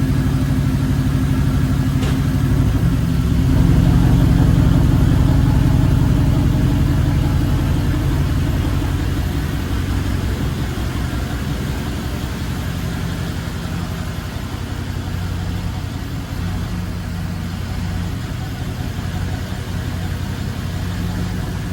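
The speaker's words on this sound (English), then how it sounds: "I'm gonna let this idle for a couple minutes, see if there's any more leaks." A BMW N63 V8 idles steadily after a coolant leak repair, a constant low engine rumble heard alone and close for the whole stretch.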